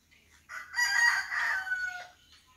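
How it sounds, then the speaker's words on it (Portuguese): A rooster crows once, loud and close, on a simple rural homestead during rainy weather, with faint clucking and background noise around it. "As galinhas."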